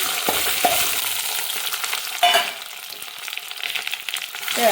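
Sliced ripe plantain hisses and sizzles steadily in a hot pan, with brief stirring scrapes and crackles breaking through the frying noise.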